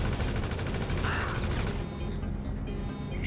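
Rapid gunfire in the video game GTA V during a Cayo Perico heist setup, a dense continuous burst of automatic shots that drops off toward the end.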